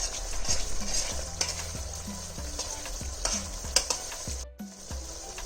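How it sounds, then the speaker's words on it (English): A spoon stirs sugar into a spiced tomato paneer gravy, Dhaba style, with repeated scraping strokes against the pan over a steady close sizzle. No voices. "add 1 teaspoon of sugar. Just give it a mix again."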